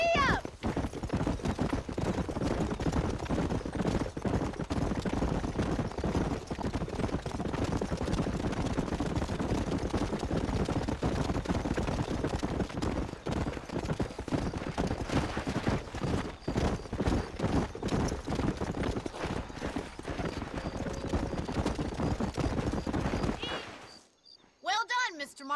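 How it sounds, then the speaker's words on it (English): Horse hooves clip-clop at a gallop in the Red Dead Redemption video game, a dense rhythmic clatter sustained for most of the stretch, with a whinny and faint gunfire mixed in before an abrupt cut near the end. "These are fine horses."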